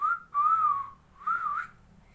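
Two rising-and-falling catcall whistles, one after the other, sound clear and fairly close with a brief gap between them and nothing else heard.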